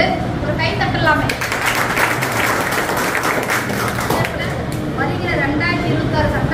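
Audience at an AIADMK party consultation meeting in Tiruvannamalai claps steadily through the whole stretch, a dense, loud wash of many hands with crowd noise and some voices mixed in.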